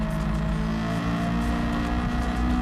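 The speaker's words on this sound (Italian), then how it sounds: "Questa marmitta fa un bel rumore proprio di quelli ruspanti." Sports car exhaust drones steadily in Gran Turismo 7, a continuous low engine roar holding an even pitch at moderate loudness, with no voices.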